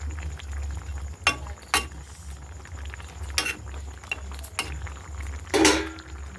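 A pot of fish curry simmers on the stove with a steady low bubbling rumble, broken by a few sharp spoon clinks and scrapes against the pot, with no talk.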